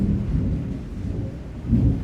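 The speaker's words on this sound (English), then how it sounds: "My side big rain is coming." Low, heavy rumbling of thunder in a thunderstorm, rolling steadily through the clip with a louder swell near the end, blended with the wash of heavy rain and no voices.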